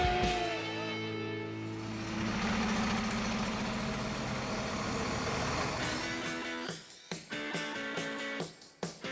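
A Kawasaki sit-down jet ski engine, ported and fitted with aftermarket parts for about 200 horsepower in a custom boat, runs with a steady droning hum, then cuts into sputtering, choppy bursts and short revs toward the end.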